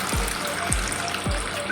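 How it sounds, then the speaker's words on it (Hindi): About a glass of water is poured into a pot of frying mutton, giving three quick gulping splashes in a row over a steady background hiss. "डालेंगे पानी, तकरीबन 1 गिलास के करीब"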